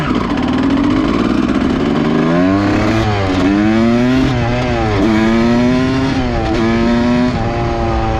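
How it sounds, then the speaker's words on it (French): A motorcycle engine revs loud and close, its pitch climbing and dropping again and again in a steady run of throttle blips with no pause. "La moto du vrai bonhomme."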